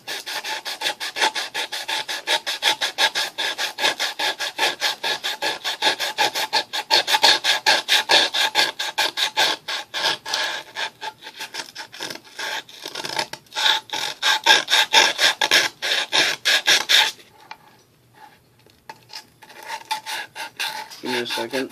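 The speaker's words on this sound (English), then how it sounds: "you can take a little fine grit sandpaper" Fine grit sandpaper rubbing a warning label off a surface, heard as a long run of quick, close, raspy back-and-forth strokes. The strokes pause briefly near the end, then resume.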